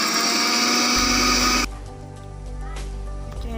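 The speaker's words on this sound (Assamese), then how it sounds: "আদা নহৰুখিনি এতিয়া মিক্সিত পিচি ল'ম" A kitchen mixer grinder whirs loudly as it pulverises ginger and garlic, a steady high-pitched motor roar for about a second and a half before it cuts out, leaving a quieter low hum behind.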